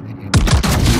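A loud, booming salvo from the battleship Ohio's main guns in World of Warships hits suddenly after a quiet moment, a rolling series of heavy blasts blending into one roar that fills the rest of the second.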